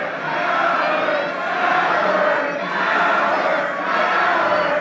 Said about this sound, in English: 500 fans in unison screaming coward